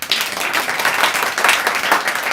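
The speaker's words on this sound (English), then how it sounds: "Give me a clap now." Audience at a live street talent show clapping loudly and continuously, a dense, near wash of applause with rhythmic bursts and no clear speech.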